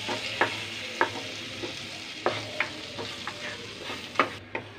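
Butter and flour stirred together in a hot pan for a white-sauce pasta: a soft frying hiss under repeated sharp scrapes and taps of the spoon against the pan, close and irregular.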